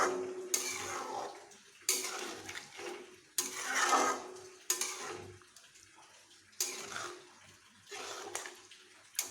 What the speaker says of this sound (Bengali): এখানে আমি দিয়ে দেব স্বাদ মতো নুন আমি নুন মিশিয়ে নিচ্ছি এর সঙ্গে